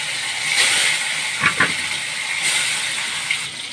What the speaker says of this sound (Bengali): এবার মাছটাকে ভাজতে দেব। মাছটা ভাজা হোক।